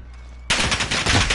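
Sustained automatic gunfire in Call of Duty bursts in suddenly after a quiet half-second, a loud, dense rattle of rapid shots continuing to the end.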